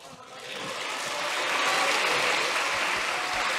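Lawmakers in a parliamentary chamber break into applause, steady clapping that swells over the first second and a half and holds at full strength to the end, with no clear voices above it.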